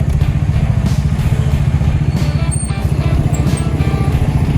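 A 2018 Bajaj Dominar 400 motorcycle engine runs steadily nearby, a loud, even idling putter with some clattering on top.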